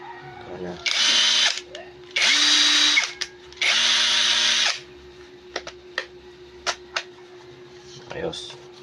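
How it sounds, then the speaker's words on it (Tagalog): A cordless impact wrench fitted with a new battery fires in three loud, sustained bursts of a second or more each, followed by a few short clicks and taps, with someone speaking briefly between. "bumili ako nitong bagong battery ng impact wrench ito"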